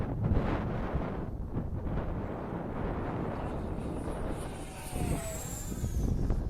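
Strong wind buffeting the microphone outdoors during an RC flight of an H. King Viper 64mm EDF 6S jet; loud, continuous rumbling gusts throughout, with a faint high whine of the passing jet near the end.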